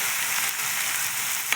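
Finely chopped cucumber sautéing in oil with turmeric, a dense continuous sizzle with one brief utensil click near the end, close and steady, no voices.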